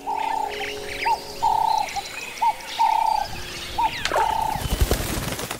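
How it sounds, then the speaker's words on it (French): Turtle doves coo in a repeated, evenly spaced series at windy Pointe-d'Esny, Mauritius, their soft mid-pitched calls standing out against a steady rush of wind, with faint chirps behind and a louder gust near the end. "il y a ce petit roucoulement des tourterelles avec le vent"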